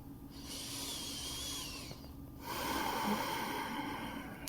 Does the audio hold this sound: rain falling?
no